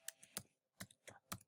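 Typing on a computer keyboard while entering an email address during a database setup: five quick, distinct key clicks spaced in an uneven rhythm, close and fairly quiet, with no speech.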